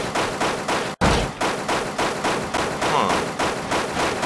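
Rapid automatic gunfire in BeamNG Drive, a steady stream of loud, evenly spaced shots with one brief pause, and a short voiced murmur partway through.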